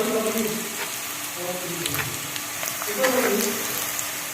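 Onion, tomato and green chilies sizzle in a pan with a constant loud crackle. Someone talks over the frying.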